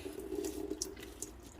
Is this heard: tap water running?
yes